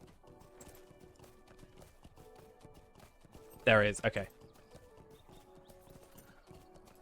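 Hooves of the Tarnished Whistle starter horse in Lord of the Rings Online clip-clop steadily and evenly throughout, with a short burst of talk midway.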